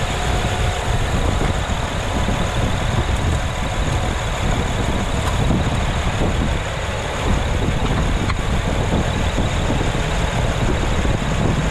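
A car engine held at raised RPM during a DIY intake valve carbon cleaning, a steady loud drone with broadband roar that stays constant throughout, no voices.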